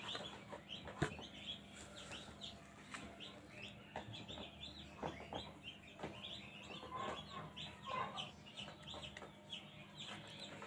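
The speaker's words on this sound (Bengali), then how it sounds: "এগুলো সম্পূর্ণ হচ্ছে ব্রাহ্মা মুরগির বাচ্চা।" Brahma chicken chicks peep and cheep continuously at close range, with overlapping high calls and a few louder clucks, fairly soft overall.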